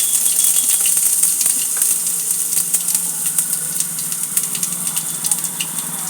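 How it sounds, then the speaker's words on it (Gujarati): A coconut sandwich toasts in hot oil with mustard seeds, a steady close sizzle and hiss with faint crackles and pops, with a person talking at times. "રાઈ નાખીને સેન્ડવિચને શેકીશું."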